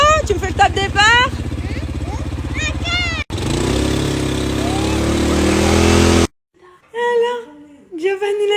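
Engines of motorcycles and a quad bike rev up and pull away loudly together. Lively voices talk over the start, and after the engine noise cuts off only voices remain.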